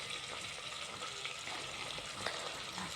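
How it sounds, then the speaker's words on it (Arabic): Chicken frying in ghee and oil, a soft, even hiss of sizzling fat with a few small crackles, fairly faint and steady throughout. "حطي فيها الدجاج اللي كان عندك ونخلوها تتقلى"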